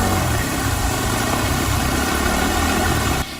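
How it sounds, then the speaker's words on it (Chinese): Motorcycle revved while pushed through flood water on a rain-flooded road in Yongkang, Tainan, during a downpour: a loud, continuous, dense engine roar that cuts off abruptly just before the end. "机车骑士完全骑不动，要下车边催油门边推才能勉强前进。"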